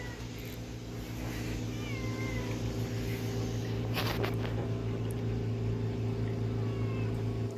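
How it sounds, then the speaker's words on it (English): A cat meows several times, drawn-out mid-pitched calls over a steady low engine hum, fairly close and clear with no talk. "And there's a cat."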